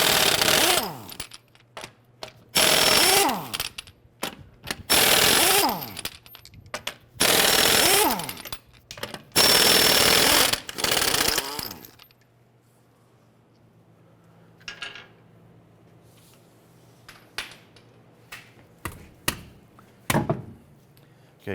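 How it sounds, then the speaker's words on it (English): Air impact wrench loosening 22mm lug nuts on a 2009-2015 Honda Pilot rear wheel, five loud rattling bursts of a few seconds each, then quieter scattered clicks and clinks of nuts and tools. "Using our 22mm socket, we're going to loosen and remove our lug nuts"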